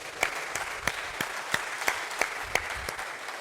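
A church congregation applauds during a service, heard as a dense patter of clapping with rhythmic, evenly spaced louder claps standing out, moderately loud and sustained.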